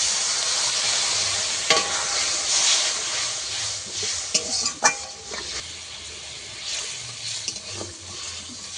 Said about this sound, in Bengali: মশলা থেকে তেল ছেড়ে গেছে এবার আমি জল দিয়ে দেবো